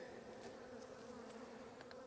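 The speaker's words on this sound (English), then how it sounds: "These bees over here are a little bit feisty at this yard." A steady, droning hum of many honeybees buzzing close by, continuous and even, with a few individual bees zipping past.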